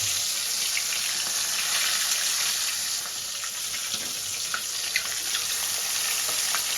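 Pieces of kalibaus fish fry in hot oil, producing a steady close hiss and sizzle with faint crackles throughout and no talk.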